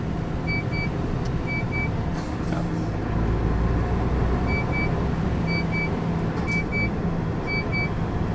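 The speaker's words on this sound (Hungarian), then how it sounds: "ilyen Mercedesnek kinéző buszok vannak a legtöbb helyen" Mercedes-style articulated city buses drive through the streets of Wiesbaden, heard as constant dense road rumble and motor drone from inside a moving vehicle, with faint intermittent beeping and no speech.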